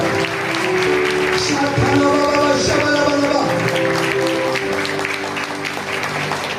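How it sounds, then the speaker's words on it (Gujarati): A church congregation in Amlipada claps hard with hands raised, a loud, dense, continuous wash of applause lasting several seconds, close and steady, with voices or held tones running underneath. "બંને હાથો ઉપર ઊંચા કરીને પિતા પુત્ર પવિત્ર આત્માને જોરદાર તાળી સ્વાગત કરીએ."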